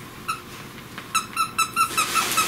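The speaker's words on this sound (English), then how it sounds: "As soon as we squeak this, he's going to come running again." A squeaky plush dog toy shaped like a basket of apples gives a series of sharp, bright squeaks, sparse at first, then several quick squeezes in a row, close and clear over a quiet room.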